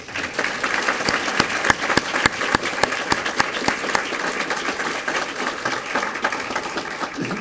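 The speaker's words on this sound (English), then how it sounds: "giving her a round of applause" A large lecture audience claps steadily, a dense wash of applause that holds evenly for several seconds with scattered louder claps.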